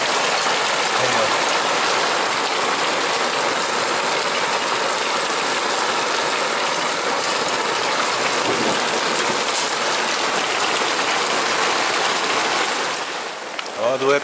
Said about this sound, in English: Nice, heavy, wet hail.